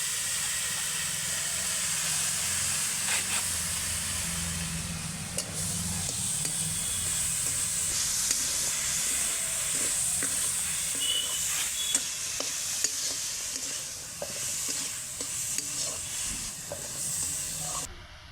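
Grated coconut mixed with sugar fries and is stirred in a pan, a steady close sizzle and hiss broken by scraping strokes of the spoon, with no talking.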